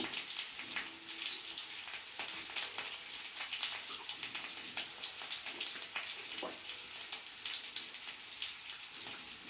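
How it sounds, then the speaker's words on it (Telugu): Curry leaves and ginger-garlic paste fry in hot oil with a continuous close hiss and crackle, steady throughout with small sputtering bursts. "ఇందులోనే కరివేపాకు అల్లం వెల్లుల్లి పేస్ట్ వేస్తున్నాను"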